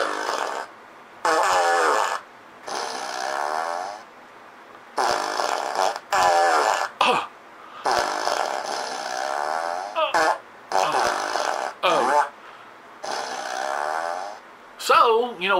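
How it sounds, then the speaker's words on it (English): A man farts on command, producing a series of about a dozen buzzing, brassy bursts with short silent gaps between them. The sounds are close and fairly loud. "Well, I can fart on command"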